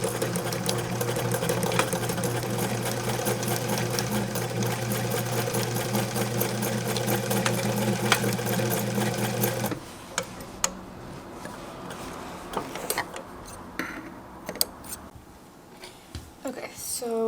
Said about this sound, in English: And we're going to sew along the edge.